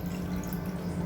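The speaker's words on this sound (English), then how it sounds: "I'm gonna add some regular water." Plain water is poured into a small bullet blender cup holding ice and powdered milk for an avocado shake, a soft continuous trickle with a faint hum, quiet and close.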